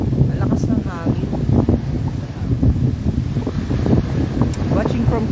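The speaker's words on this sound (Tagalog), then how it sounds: "Malakas ng hangin." Strong wind buffets the microphone in heavy, rumbling gusts, with people talking over it throughout.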